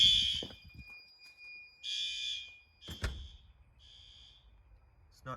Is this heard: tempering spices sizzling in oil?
no